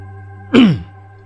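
A single short, gruff throat clearing from a man, close and fairly loud against a quiet, steady background hum.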